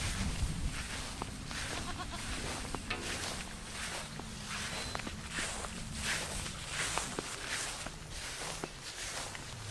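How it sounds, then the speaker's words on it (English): Small goats on a farm stand waiting to be fed, their hooves shuffling and stepping in a steady patter with faint bleats and rustling throughout, close by and continuous. "They're not as pushy as all the other goats, are they?"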